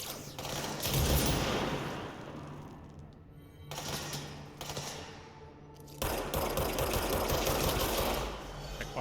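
Bursts of rapid automatic gunfire from the video game Control rattle in long stretches, separated by short quieter gaps, loud and close.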